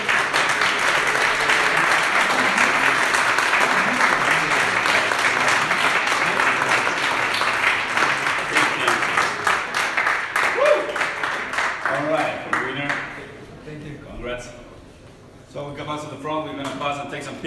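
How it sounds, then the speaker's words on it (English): Audience applause for the winners at the Startup Connect Berlin 2017 startup competition: sustained, dense clapping from a large crowd that thins out toward the end, with a few voices speaking through the tail. "This is the best reward, the applause from the audience"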